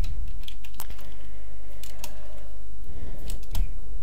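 Someone types on a computer keyboard during a Tekkit game tutorial, producing a short run of irregular clicking keystrokes at close range with no speech.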